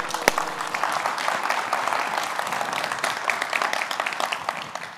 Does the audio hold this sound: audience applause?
yes